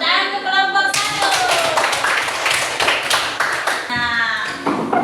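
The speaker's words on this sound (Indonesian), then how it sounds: "Tepuk tangan untuk kelompok 1." A class claps for a student group in a quick burst of close, bright handclaps, while a voice talks over the start and the end of the clapping.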